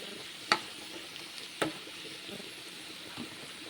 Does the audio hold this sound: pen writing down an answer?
no